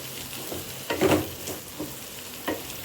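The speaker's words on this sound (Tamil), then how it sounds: "உருளைக்கிழங்கையும் மல்லிக்கிழங்கையும் போட்டு அப்படியே எண்ணெயிலே கொஞ்சம் நேரம் வதக்கி விட்டுக்கலாம்" Potato and onion samosa stuffing being sautéed in oil in a pan, giving soft, faint sizzling with a few scraping stirs of a spoon, quiet and close, with no talk.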